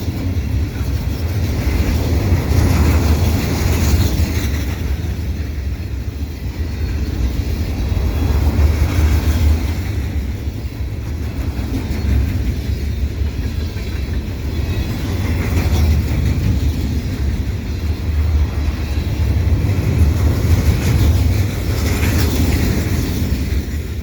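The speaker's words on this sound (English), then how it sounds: "So I got 2 trains, 2 for 1." Two CN unit grain freight trains pass at Dorval in winter, producing a loud, continuous heavy rumble with rolling wheel noise that swells and eases over about twenty-four seconds, without any talking.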